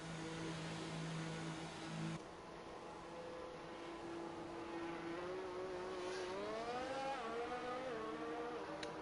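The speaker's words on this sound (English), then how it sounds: "here cars firing up already." F1 race cars in the F1 2019 video game fire up during qualifying Q3, a steady engine drone with a tone that rises and wavers as revs climb, moderately loud with no talk.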